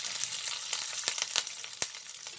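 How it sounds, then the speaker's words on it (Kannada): Green chillies frying in hot oil for a Kannada potato and sprouted green gram saaru, giving a steady close-up sizzle with sharp crackles and pops throughout. "ಈಗ ಹಸಿಮೆಣ್ಸಿನ್ಕಾಯಿ ಹಾಕ್ತಿದ್ದೀವಿ."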